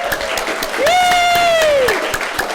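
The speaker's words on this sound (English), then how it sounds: "give them a round of applause" Congregation applause during a church service, a steady wash of clapping with cheering voices and a long sustained whoop rising over it, fairly loud and close throughout.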